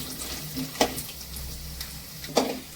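Urad dal and chana dal fry in hot oil with mustard seeds, giving a soft steady sizzle with a couple of sharper pops and crackles.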